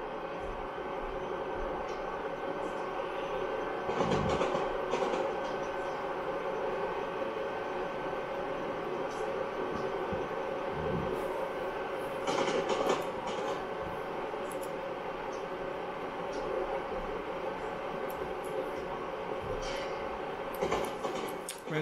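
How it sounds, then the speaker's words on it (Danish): A train in Train Simulator rolls steadily along rails on Cajon Pass with a constant rumble and occasional clicks and clunks, no talking, a smooth continuous ride. "Så nu kører toget sådan set meget normalt."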